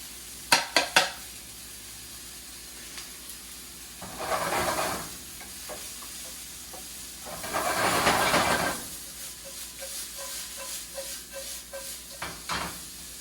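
Onions with garlic, ginger and spices sizzling in a pan, two swells of loud hissing frying as the spices go in, with stirring clinks and scrapes between them.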